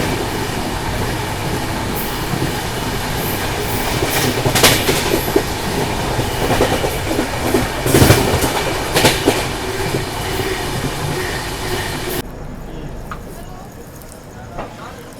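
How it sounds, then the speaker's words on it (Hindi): A passenger train, the Bundelkhand Express, rolls past a thermal power plant with a steady roar and rhythmic clickety-clack of wheels on rail joints. The sound is loud and continuous, then abruptly drops in level near the end. "इसके एकदम बगल से अपनी ट्रेन गुजर रही है"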